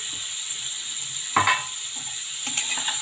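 Vegetable frying in hot oil with cumin seeds and onion in a pan on a gas stove, a steady close sizzle with a few brief stirring scrapes.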